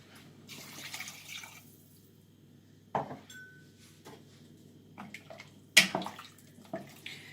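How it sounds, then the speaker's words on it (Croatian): Water is poured into a pot of chicken and potato stew: a short splashing pour, quiet gaps, then sharper splashes and clinks of a utensil against the pot, close and alone. "I u to ćemo da dodamo još vode."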